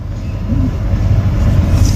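A train rolls along on a long-distance journey from Bengaluru to West Bengal, heard from inside as a steady low rumble and rattle that continues without a break, fairly loud and close.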